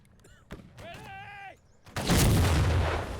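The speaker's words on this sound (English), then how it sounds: "Mortar going out." A mortar fires in an American Civil War siege game, a loud deep boom with a long rumbling tail arriving after a short stretch of quieter tones and voices.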